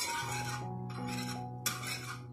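A spoon scrapes and stirs through a thickening rice flour mixture in a pan on the stove, short metallic clinks and scraping strokes against a steady background hum.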